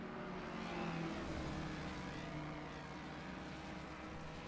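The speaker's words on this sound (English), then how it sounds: "Hear that screaming Ford coming through." A Ford race car engine screams past on a track during a racing event, a loud, steady high-revving roar with a slight pitch sweep as it goes by, heard at a distance with no talk.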